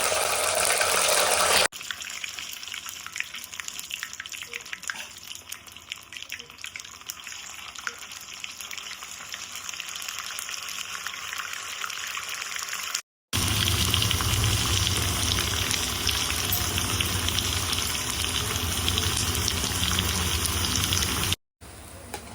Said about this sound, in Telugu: Oil heat ఎక్కిందండి. ఇప్పుడు దీనిలో డీప్ ఫ్రై చేయాలి. Chicken pieces